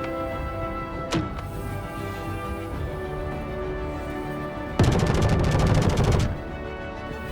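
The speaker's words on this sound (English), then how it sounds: "It's just suppressing fire." Gunfire in the space game Star Citizen: a single sharp shot early on, then a dense rapid burst of automatic suppressing fire lasting over a second, loud over a steady droning engine hum.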